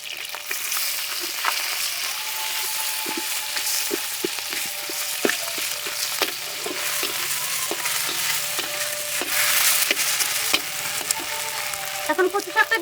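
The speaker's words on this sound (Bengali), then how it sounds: "ইলিশ মাছের মাথাটা দিয়ে দিচ্ছি" Hilsa fish head frying in hot oil with black cumin and slit green chillies, giving a steady close sizzle broken by scattered clicks and scrapes of stirring, with no voices.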